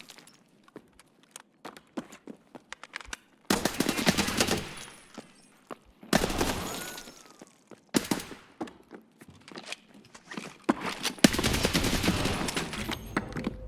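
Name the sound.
gunfire in a video game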